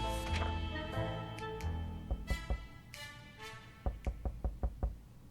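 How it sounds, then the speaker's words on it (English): Thugs banging on a shelter door in 60 Seconds! Reatomized, a run of heavy, close knocks in two clusters, loud and rhythmic, over a soft musical background. "A group of thugs started banging on our door."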